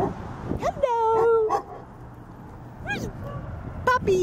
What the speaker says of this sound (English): there's puppies